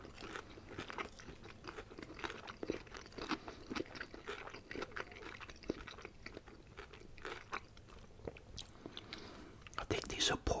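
Crunchy Filipino pork spring rolls chewed close to the mic in steady bites, with crisp crackling and wet mastication noises throughout.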